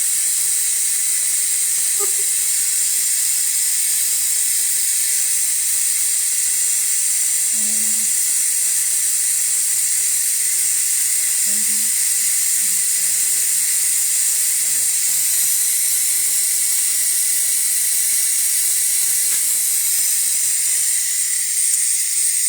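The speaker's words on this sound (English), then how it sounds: "So hopefully you can see the steam. We've got constant pressure." Steam hissing steadily from a pressure canner on a stove while it cooks Manhattan clam chowder, a loud, constant, unbroken high hiss that lasts throughout with faint background sounds beneath.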